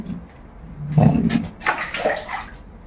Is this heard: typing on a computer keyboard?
no